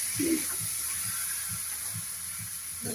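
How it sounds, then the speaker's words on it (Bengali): Water poured into a pan of sizzling fried spice masala while cooking a pangas fish curry, giving a steady frying hiss with soft stirring taps and a brief surge of sizzle near the start. "এখন আমি জল দিয়ে দেবো"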